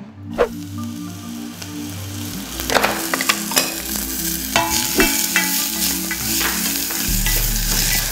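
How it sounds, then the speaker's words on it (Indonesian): Mushrooms sauté in hot oil with a crackling sizzle and frequent clattering stirs, while soft music plays steadily underneath. "Kita akan tumis dulu jamurnya."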